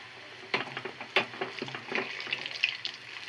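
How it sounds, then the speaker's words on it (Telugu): Chicken pakoda fries in hot oil with a quiet, continuous sizzle. Irregular louder crackles and pops rise above it at close range. "మంచిగా గోల్డెన్ కలర్ వచ్చేంత వరకు అయితే ఫ్రై చేసుకోవాలి."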